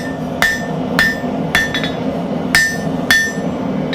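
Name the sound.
blacksmith hammering a can tab opener square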